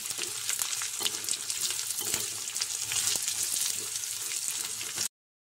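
Split moong dal sizzles steadily in hot oil tempering for a drumstick-leaf fry, with a busy crackling hiss and occasional sharp pops and spoon scrapes, close and continuous before cutting off abruptly.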